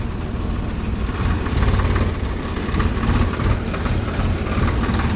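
A tractor engine runs at a steady low idle rumble, close and fairly loud, while a learner driver shifts it into reverse gear; the drone holds throughout with slight swells and no talk.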